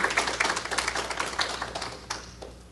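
Audience applause welcoming Shannon Mitchell to the stage for a talk on birth support expectations, a scattered patter of hand claps at moderate distance that thins toward the end.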